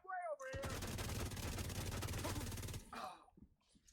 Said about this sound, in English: I'm using the Police M4, which used to be my go-to gun for many years